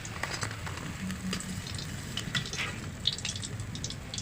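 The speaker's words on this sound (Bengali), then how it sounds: "এবার সবগুলো ভেজে নেব।" Potato French fries frying in hot oil make a steady, close sizzle with fine bubbling crackle that holds constant throughout, with no talking.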